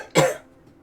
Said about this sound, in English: I'm still having allergy issues to boot too, but I always cough.